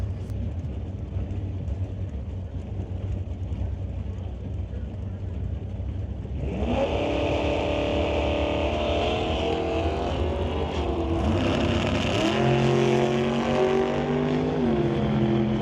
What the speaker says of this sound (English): Richard Love will be racing Jeremy Soares, and the Soares transport a hot shot dragster down to the 736